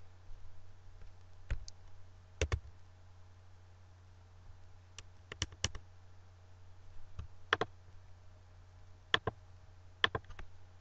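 Sparse, quiet clicks and short bursts of keys on a computer keyboard, irregular and spaced out over a steady low electrical hum, with no voices.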